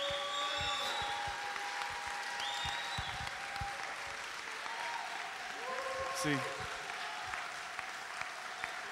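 Applause from a church congregation on Father's Day, a steady wash of clapping running the whole time, with a voice speaking over it and a brief louder burst partway through.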